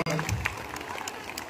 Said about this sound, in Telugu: కమిటీ మొత్తం మనం చప్పట్లండి గట్టిగా